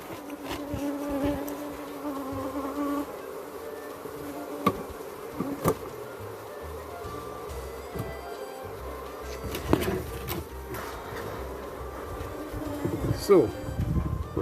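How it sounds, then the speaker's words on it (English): Dense, steady buzzing of many bees swarming around an open, strong beehive during a hive inspection, close and continuous, with occasional louder passes near the ear and a person's voice faintly under it. "This is one of the strongest hives that I've seen so far"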